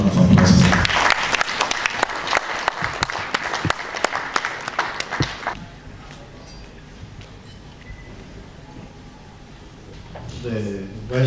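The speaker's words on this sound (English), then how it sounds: "A round of applause for him." An audience at a formal university club ceremony applauds a keynote speaker with loud, dense clapping that stops abruptly about halfway through, leaving quiet room tone before a voice begins speaking.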